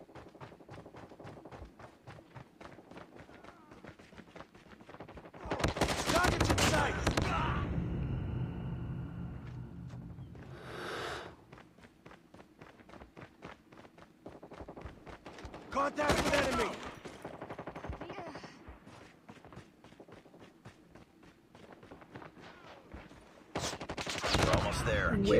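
Rapid assault rifle fire in a multiplayer shooter game, set in short loud bursts between stretches of quieter play, with a player's voice talking over the action at times.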